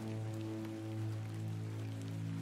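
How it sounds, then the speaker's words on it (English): Rain in the video game The Excavation of Hob's Barrow makes a soft, steady patter over a sustained low musical drone, with no voices. "Oh my, it's not only raining, but it's freaking foggy as hell."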